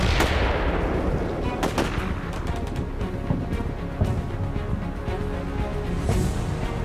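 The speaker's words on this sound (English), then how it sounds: "Cover fire is provided, though I doubt my men will hit anything." Bursts of rifle and machine-gun fire crack continuously in Combat Mission Shock Force 2 as covering fire for Syrian troops fighting American Marines. The shots come as dense, overlapping volleys with distant booms, loud and sustained throughout.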